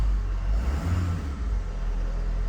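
A Ford 6.7 diesel truck engine runs steadily up close, a deep low rumble holding even throughout with no voices.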